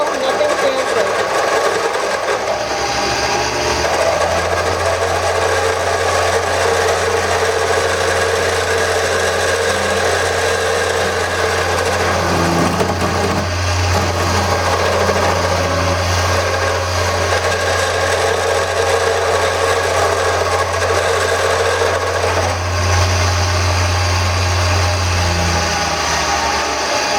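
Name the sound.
wood lathe turning and smoothing a tool handle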